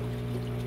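A power head in a 75-gallon cichlid tank returns water into the tank with a steady, close pouring trickle over a constant low pump hum, with no talking.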